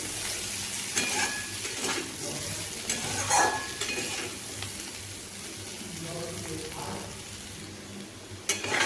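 Bitter gourd and potato pieces fry in a pan with a steady sizzle, broken by repeated stirring scrapes and light clatter of a spatula against the pan.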